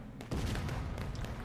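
A distant, muffled musket volley from the Civil War game War of Rights, a dull boom rising at about a quarter second and then rumbling on as a sustained rolling crackle through the rest of the moment.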